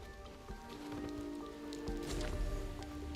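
Rain falling in a video game, a soft steady patter of drops on surfaces with a faint tonal hum underneath and a few scattered louder splats.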